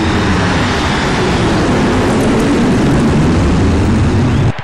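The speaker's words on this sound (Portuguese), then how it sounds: "Olha o avião da Webjet informando o tempo." A loud, steady broadband roar of a Webjet airplane flying over in the PC game Pro Evolution Soccer 6, droning close and continuous before cutting off abruptly at the end.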